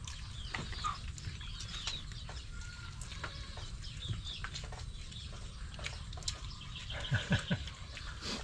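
Chickens cluck and murmur at a distance over steady outdoor background noise, with a few sharper calls near the end.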